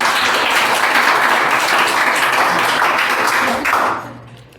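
An audience at a Teachers' Day program breaks into loud, sustained applause, dense clapping filling the hall steadily before dropping off abruptly at the end.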